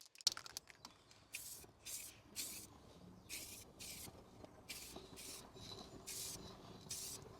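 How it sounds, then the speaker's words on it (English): Spray paint misted in a light coat over a Land Rover Defender 110 brake caliper during a refurb, short hissing bursts repeated roughly every half second to second, quiet and close, with faint handling clatter between. "So I'm just going to lay a light coat down on it first."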